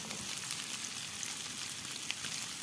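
Onions and chicken fry in a pan with a soft, steady sizzle, faint and close, crackling evenly with a few small pops, and no voices.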